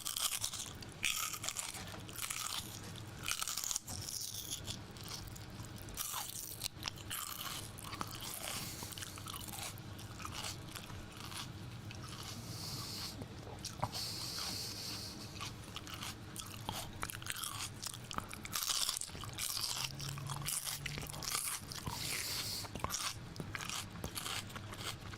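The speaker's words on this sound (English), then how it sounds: "I'm going to give you a little bit of a celery ASMR." Celery stalks bitten and crunched close to the mic in an ASMR style, with dense, continuous crisp snaps and wet chewing over about 25 seconds and no talking.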